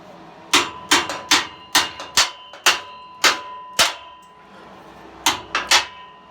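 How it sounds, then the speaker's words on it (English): A big hammer pounds the metal chassis of a Marcos Mantula under repair, about a dozen sharp, loud, close metallic blows in irregular bursts with no talking. "Big hammer."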